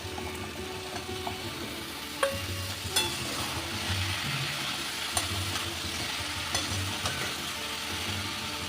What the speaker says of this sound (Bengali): বেশ খানিকটা ভেজে নেব।